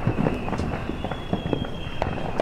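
Fourth of July fireworks crackle and pop in scattered sharp bursts near the Jersey Bayshore waterfront, a steady background rumble beneath them and a faint high tone running throughout.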